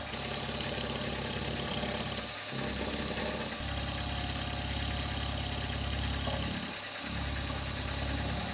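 A metal lathe chamfers the edges of a tool holder, with a shim under the clamp: a steady, loud mechanical drone with low rumble that cuts out briefly twice.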